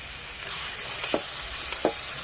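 A little water going into a sizzling kohlrabi and prawn curry, a loud steady frying hiss broken by two short bursts, with no voices.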